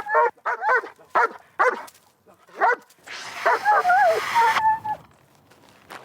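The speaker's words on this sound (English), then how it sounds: "Dog." A dog barks repeatedly and close by in a police training scenario about dog encounters, a run of sharp barks followed by a hiss of spray with whining and barking mixed in.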